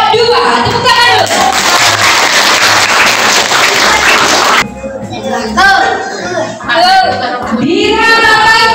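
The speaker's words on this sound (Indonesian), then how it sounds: "Tepuk tangan dulu." Schoolchildren clapping in applause during a visit to the Samudra Pasai Islamic museum, loud close clapping for several seconds, then children's voices and chatter taking over as the clapping dies away.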